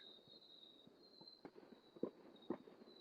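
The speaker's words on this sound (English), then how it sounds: "But we have a lot of fireworks out here." Distant fireworks over East Tennessee: a few faint, scattered booms and pops, the strongest two about half a second apart, rising only slightly above a steady high insect-like drone and low background hiss.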